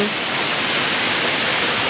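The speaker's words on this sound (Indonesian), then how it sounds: "hentakan air dari air terjun Raja Ilang ini" Reje Ilang waterfall in Bener Meriah, Aceh, pours down as a steady, dense roar of crashing water, loud and continuous with no break throughout.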